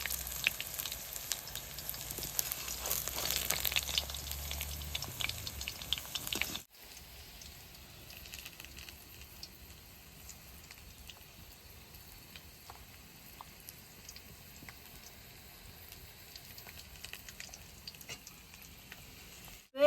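Potato-stuffed cabbage chops frying in hot oil, a steady sizzle that is loud for the first few seconds and then drops to a quieter, continuous crackle.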